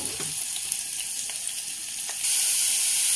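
Tomatoes frying in a pan give a steady, close sizzle with faint crackles, and the hiss grows louder and brighter toward the end. No one speaks.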